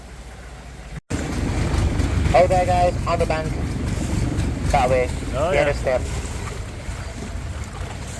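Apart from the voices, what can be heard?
longboat approaching on a Bangkok river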